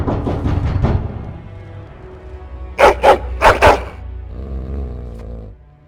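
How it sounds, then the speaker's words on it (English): Dog barking in the video game Dragon Age: Origins, a quick burst of several loud, close barks followed by a lower growl-like tone, with no talking. "Oh yeah, dog."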